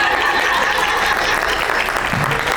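Applause from a panel audience fills the room, a loud, sustained wash of many hands clapping at a constant level from start to finish.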